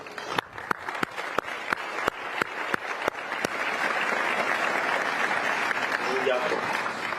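Audience of corporate leaders at Yale applauding President Zelenskyy, a few sharp individual claps building into a full, steady round of applause that carries through to the end.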